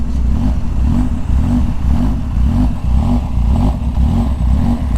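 Kawasaki Ninja H2R superbike engine revving hard, a loud, steady, close-up roar with pulsing rhythmic throttle surges across the whole stretch, no voices.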